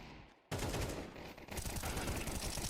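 Rapid, dense gunfire from the game Counter-Strike 2 during a South America Masters esports match, with loud, continuous overlapping shots after a quiet start.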